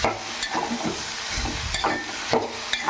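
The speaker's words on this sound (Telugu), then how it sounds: "బాగా మనం గరిటె పెట్టి తిప్పుకుందాం ఉప్పు కలిపేదాకా" A ladle stirs bottle gourd pieces frying with salt in a pan, producing scraping sweeps over a soft, steady sizzle, close and with no talking.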